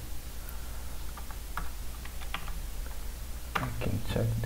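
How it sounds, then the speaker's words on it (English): Keys tapped on a computer keyboard while a web address is entered, giving scattered light clicks in short irregular bursts over a steady low room hum, with a quicker cluster near the end. "let me type the URL"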